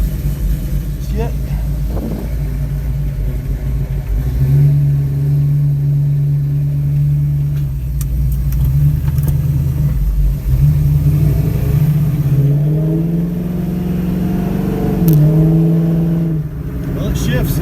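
A Dodge Challenger's engine drones close by on a test drive, rising in pitch as it accelerates, dropping at a gear change and climbing again, with someone talking over the steady road noise.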